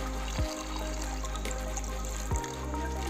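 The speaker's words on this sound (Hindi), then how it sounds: "अब इसमें पानी मिलाएंगे।" Water pours into a pot of fish being cooked, a steady low pour with two brief splashy onsets, heard alone and fairly quiet.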